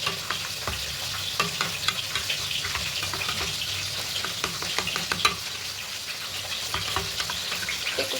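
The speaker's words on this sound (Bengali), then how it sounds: "এবার ম্যাগি মশলা দিয়ে খুব ভালো করে মিশিয়ে নেব" Potato filling stirred with Maggi masala in a hot pan, a steady sizzle with repeated scraping and clinking strokes of a spoon throughout, close and continuous.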